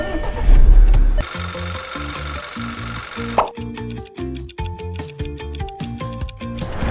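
An Audi A4L engine idles in place to warm up after engine protectant is poured into its oil, giving a close, steady mechanical rumble with a regular pulsing beat and no voices.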